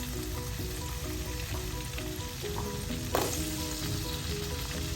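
Potatoes sizzle steadily in a pan of pumpkin, radish and potato curry, with a short burst of stirring just past the midpoint. Soft tonal background music plays throughout.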